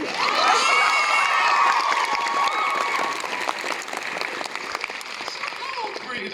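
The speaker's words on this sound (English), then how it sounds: "a big round of applause for Daddy over here" A convention crowd bursts into loud applause mixed with cheers and whoops, strongest at first and then easing into scattered clapping as a voice speaks over it.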